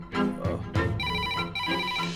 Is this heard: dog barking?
no